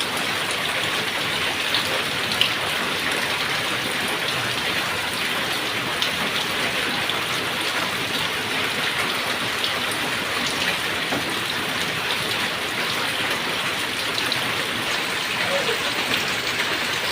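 Steady rain falls on a rainy day in a village, a dense even patter with scattered drops striking surfaces, continuous and fairly close throughout.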